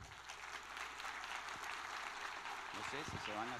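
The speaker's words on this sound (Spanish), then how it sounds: "Lo recibimos con un fuerte aplauso." An audience welcomes a speaker with steady applause at a talk, continuous and moderately loud, with a voice breaking in near the end.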